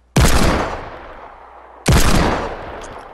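Two loud, heavy Desert Eagle pistol shots in Fortnite, fired close up about two seconds apart, each a sharp crack with a decaying tail, no talk over them.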